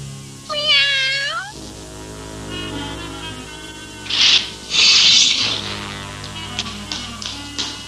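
A cartoon cat gives a clear rising meow up close, followed by a few taps and bursts of hissy noise, then quiet.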